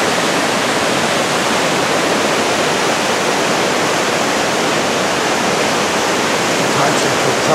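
Sasquatch waterfall of snow melt pouring down with mist, a loud, unbroken roar of rushing water heard up close, steady and broadband throughout with no talk.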